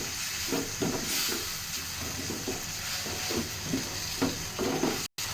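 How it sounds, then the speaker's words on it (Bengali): Noodles tossed with spices in a hot pan, a continuous hiss and sizzle with repeated scraping stirs at an uneven rhythm, close and fairly loud throughout. "নুডলস ঢালতেছি। এরপরে একটু নাড়তে হবে, ভালো করে নাড়াতে হবে মশলাগুলো"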